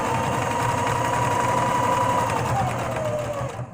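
A home sewing machine runs fast in a steady, continuous whir of stitching, loud and close, trailing off near the end.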